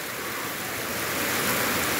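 Dense, heavy rain hisses steadily in a constant wash of noise in Islamabad, with a faint gritty patter of small hailstones mixed in.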